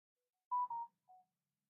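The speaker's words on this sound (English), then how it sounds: "Why'd this phone make a noise?" A phone gives a short, faint electronic notification: two quick tonal beeps followed by a softer third chirp, alone in a quiet room.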